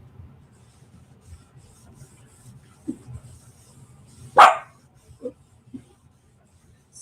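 One sharp bark in the middle, fairly close, with a couple of softer short yips after it over quiet room noise.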